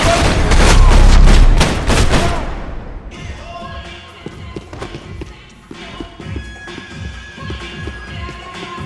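Heavy gunfire from the video game Max Payne 3: a loud, dense burst of rapid shots for about two seconds, followed by quieter scattered impacts, clatter and thuds with voices faintly mixed in.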